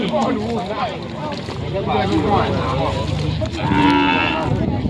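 Cattle low and moo at a rural livestock market in Thailand during rain, several deep drawn-out calls close by over a steady background wash, with people talking nearby.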